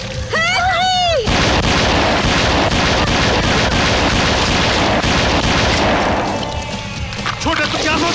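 Gunfire and explosive booms fill a Hindi-dubbed English action movie scene set in a forest, a loud, dense, continuous barrage lasting several seconds, with brief shouting voices before it and after it.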